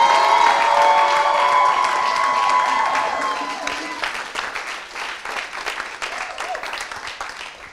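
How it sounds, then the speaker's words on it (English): A live event audience applauds and cheers for a guest, with a loud crowd roar and voices early on that give way to steady, slightly thinner clapping. "Give it up for the one and only Michael Ealy"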